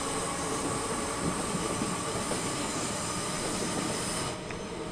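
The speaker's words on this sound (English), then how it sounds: "I hear a train." A train on the West Coast Main Line in the Train Sim World 5 game rumbles past close and loud, a steady broadband roar of wheels and carriages that drops off slightly near the end.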